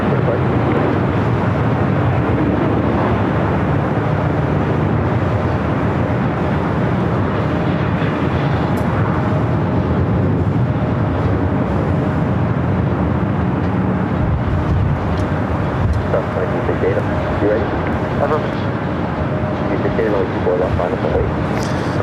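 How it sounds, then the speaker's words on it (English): Airbus A380 arriving at LAX fills the air with a continuous, loud, broad jet rumble that shifts slightly in tone as the aircraft passes, with wind buffeting the microphone. "Another A380 arrival."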